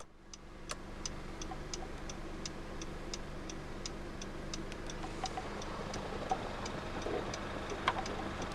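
Hazard lights on a 2015 Honda Civic 2.0 tick in a steady, evenly spaced rhythm, crisp and close, over the low hum of the idling engine.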